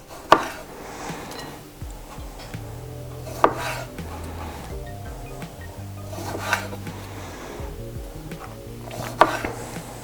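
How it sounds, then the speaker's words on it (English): A knife cuts onion and halves cherry tomatoes on a board, with a few sharp chops spaced about three seconds apart and softer slicing and scraping between them, close up and with no talk. "Then I also want to add some onion and some cherry tomatoes that I'm just gonna halve."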